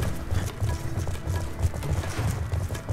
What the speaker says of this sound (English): Come on, go a little faster, horse.